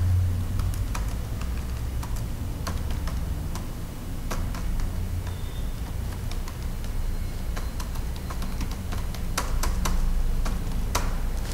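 Keys on a computer keyboard are tapped in scattered, irregular clicks while an address is entered into accounting software, close and fairly clear over a steady low hum, with no talking.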